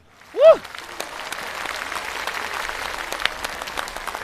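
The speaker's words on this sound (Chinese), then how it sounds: "想换工作的请鼓鼓掌" Applause from a TV comedy show's studio audience swells into a dense, sustained patter after a brief rising whoop, steady and moderately loud for several seconds.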